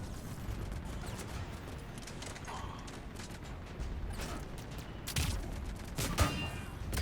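Rapid bursts of gunfire with mechanical clicks and clatter during a Mass Effect 3 multiplayer match, steady and moderately loud, with louder shots near the end.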